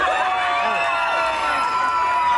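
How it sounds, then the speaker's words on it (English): A crowd at a Jamaican bun and cheese eating contest cheering and whooping loudly, with shouts and some clapping mixed into the close, continuous roar. "Give him a nice round of applause."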